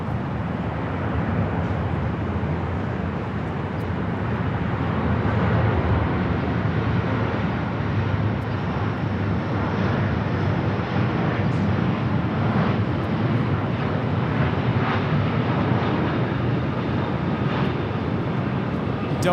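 Delta Boeing 757-300 airliner on short final for landing at Los Angeles airport, a steady broadband engine roar heard from a distance, holding level and continuous throughout.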